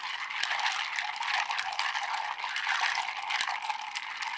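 Ice cubes rattle and clink steadily inside a mixing glass as a bourbon cocktail made with Russell's Reserve 10 Year is stirred, close and moderately loud with a few sharper knocks and no talking.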